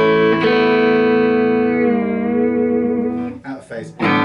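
Burns Brian May Red Special electric guitar with neck and bridge pickups switched in phase, giving a thinner tone; a single sustained chord rings loud and alone, slowly decaying before a brief rustle at the end.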